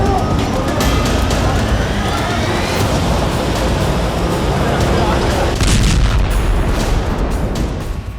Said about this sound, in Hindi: और तभी एक जोरदार धमाका होता है।